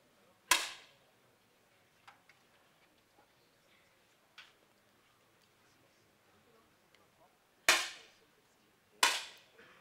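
Shots from 10m air rifles in a women's final at an ISSF World Cup in Munich, heard as sharp isolated cracks: one near the start, a fainter one mid-clip, then two loud reports close together near the end, over a quiet hall.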